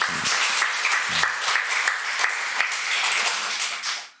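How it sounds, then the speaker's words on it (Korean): A church congregation at a Sunday service claps together in a dense, even round of applause that holds steady, then fades out at the end. "우리 다음 주도 기대하면서 박수 한번 하겠습니다"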